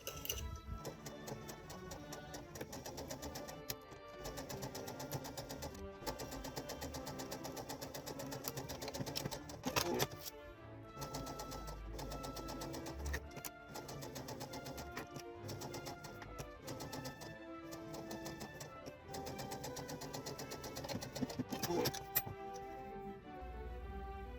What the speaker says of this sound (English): And now I'm going to sew bottom placket again, but backside of this time.